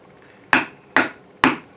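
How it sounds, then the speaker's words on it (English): Three sharp, evenly spaced hammer blows drive a chisel into a pinewood derby car block along the grain, each strike crisp and close with a short decaying ring. "And it's easier to hammer this way, right?"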